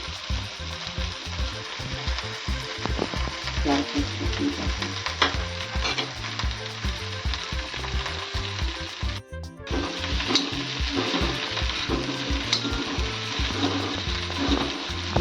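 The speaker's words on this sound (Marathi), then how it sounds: "आता भेंडी परतून घेते जरा त्याच्याबरोबर थोडीशी कोकमा टाकते" Okra (bhindi) sautéed with kokum in an oiled pan: a continuous close sizzle with rhythmic scraping and clacking of a spatula stirring throughout, no voices.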